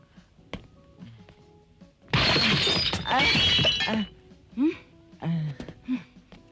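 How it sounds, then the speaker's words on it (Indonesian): Objects smashing and shattering in a 1982 Indonesian action film, a long loud burst of breaking crockery and glass, followed by further crashes and thuds while someone shouts and pleads. "Jangan dibanting, itu kita punya."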